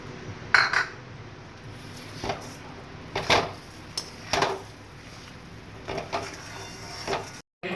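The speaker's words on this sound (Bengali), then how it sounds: "এবার ছানার সাথে ভালো করে ক্ষীরটা মিশিয়ে নেব।" Chhana and kheer being stirred in a pan, irregular scraping and knocking of a spoon against the pan in bursts over a soft background hiss. It is close, moderately quiet and has no talking.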